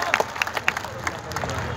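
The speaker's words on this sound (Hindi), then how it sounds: "समझ जाए तो तालियां बजाएंगे" Applause from the audience at a Hindi poetry gathering in Samastipur, a scattering of fairly faint, uneven claps rising and falling over a murmuring hall.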